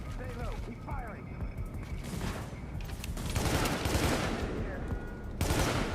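Heavy, sustained automatic gunfire rattles through a firefight in The Division's Survival mode, dense and continuous, with voices talking over the shooting.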